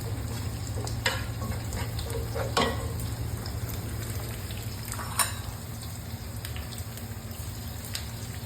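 Chorizo fries in a pan of oil with a steady, even sizzle and crackle, broken by a few sharper pops and stirring clinks, under a low constant background hum.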